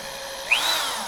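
A power drill bores into metal with a steady whirring grind, and a brief rising squeal cuts in midway as the bit catches; no voices are heard.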